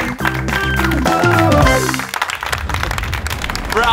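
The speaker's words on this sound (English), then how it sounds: "They deserve a round of applause for that clever contraption." Music with sung or sustained tones gives way to a burst of clapping from a small audience on a backyard science kids' show, the applause loud and scattered over the final two seconds.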